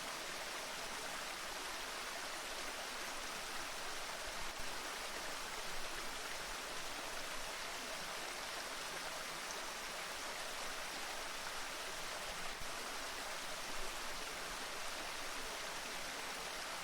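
Water rushing steadily down a rainforest stream, a dense unbroken hiss and babble that stays full and even from start to finish, with no voices.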